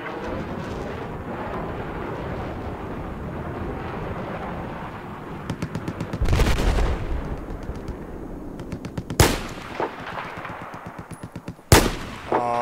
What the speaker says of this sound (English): just casually shooting people